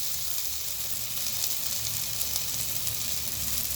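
Garlic and curry leaves sizzle in hot oil in a pan with onions for a Telugu spinach dish, a loud, continuous close-up hiss that stays steady throughout without any voices.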